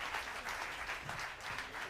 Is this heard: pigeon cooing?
no